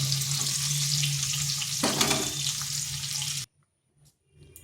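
Potatoes and pointed gourd fry in hot oil in a pan with a steady, close sizzle and faint stirring scrapes. The sizzling stops abruptly partway through, and only faint, sparse sounds follow.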